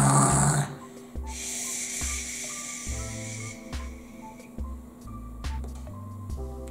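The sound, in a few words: person imitating snoring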